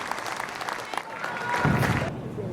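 Crowd applauds at an athletic hall of fame induction ceremony, a broad clapping wash that swells slightly midway, with a voice faintly audible beneath it before it tapers off.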